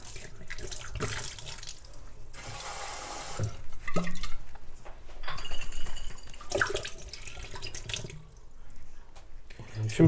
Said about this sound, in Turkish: Şimdi bu fırçaladığımız şişelerin içerisine biraz su alıp